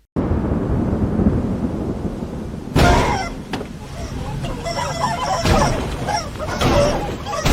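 Heavy rain hisses steadily, then a loud crack of thunder breaks in and rumbles on, with further rumbling bursts under the downpour.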